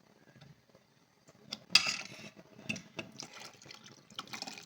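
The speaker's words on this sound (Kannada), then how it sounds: "ಕುಕ್ಕರ್ ತೊಳ್ಕೊಂಡು ಸ್ವಲ್ಪ ನೀರು ಹಾಕ್ಕೊಳ್ತಾ ಇದ್ದೀನಿ." A pressure cooker is rinsed and filled with some water at a sink, with a quiet start, then splashing, trickling and sloshing water in irregular bursts close by.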